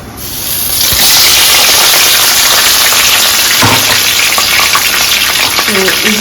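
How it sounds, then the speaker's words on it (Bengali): Sliced onion frying in hot oil with cinnamon, cardamom and bay leaf, a loud steady sizzle that rises sharply at the start, with occasional stirring clinks and taps. "তো এগুলোকে ভেজে নিই"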